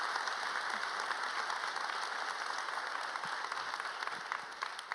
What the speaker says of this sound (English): If you could all give them a round of applause,